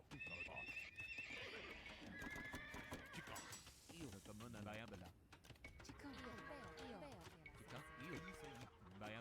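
Horses neigh and whinny repeatedly in the Age of Empires 2 strategy game, mixed with hoof clip-clops, keyboard clicking and someone talking over the game sounds.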